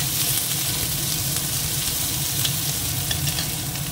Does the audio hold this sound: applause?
no